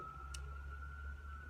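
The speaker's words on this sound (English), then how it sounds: "Can you hear that siren?" A distant emergency vehicle siren wails faintly along a road, a thin steady tone held under a low constant hum and indoor room noise.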